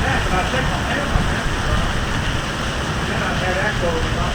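Steady, dense downpour roaring continuously with broadband hiss, like heavy rain pounding a surface nearby, no gaps or pauses throughout.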